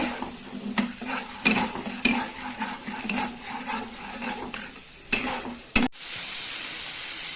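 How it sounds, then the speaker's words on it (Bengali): A spice paste with chili powder fries in a pan for a fish curry, sizzling softly while a spoon stirs and scrapes, with several sharp knocks against the pan and a loud clatter near the end. "দিয়ে দিচ্ছি 1/2 চামচ লঙ্কা গুঁড়ো। মশলাটা ভালো করে কষিয়ে নেব।"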